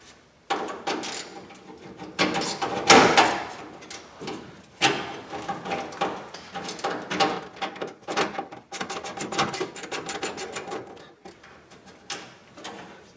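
A 1/4 inch socket wrench loosens a fastener on a classic Mustang dash, giving close, intermittent ratcheting clicks and metallic handling sounds in bursts with short pauses between them.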